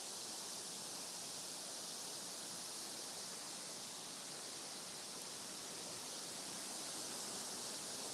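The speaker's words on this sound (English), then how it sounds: "There, we're on top of the waterfall." A two-tiered natural bedrock waterfall roars in a steady, dense wash of falling water, loud and close with no break and no voices.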